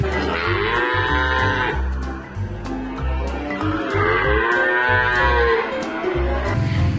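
A toy cow lets out loud, drawn-out mechanical moos, two long lowing calls back to back with a brief dip between, close and clear with no talking over them.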